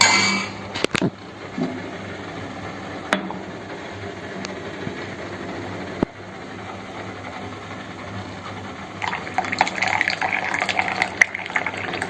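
Tea decoction runs from the tap of a tea boiler at a tea shop training academy, a steady liquid pour heard up close with clicks and clatter, growing louder and busier toward the end.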